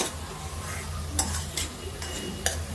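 Flat bean curry is stirred in a pan, a soft background sizzle punctuated by a few distinct spoon scrapes against the metal, close and clear.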